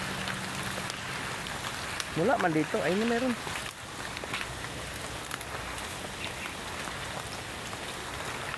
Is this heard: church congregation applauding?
no